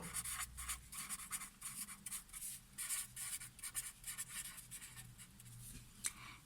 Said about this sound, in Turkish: Buraya hayvanat bahçesi yazıyorum.